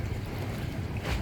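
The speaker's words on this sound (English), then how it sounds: "Here you see a Thames barge being pushed along by a Thames tug." A Thames tug pushes a barge along the river, giving a low steady engine rumble mixed with water wash and wind, heard alone from a distance.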